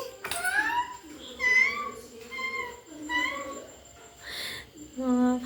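A toddler of about one and a half mimics a cat's meow in a string of high, wavering vocal calls, several in a row with short gaps, close and fairly loud, sounding clearly catlike.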